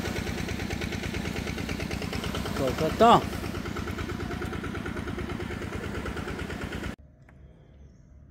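A tractor engine runs steadily on an island, a continuous mid-pitched chugging with a brief louder clatter near the middle before it cuts off abruptly; a person speaks briefly over it.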